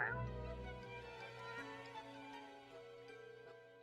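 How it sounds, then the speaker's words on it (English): A single cat gives a drawn-out, wavering meow in the game Death and Taxes, fairly quiet and close, with a few faint clicks trailing after it. "Lady Poddington utters a bewildered meow, then performs the closest thing a cat can do to a shrug"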